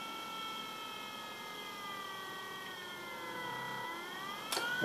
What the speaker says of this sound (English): if I reduce the voltage, you can see this motor slows down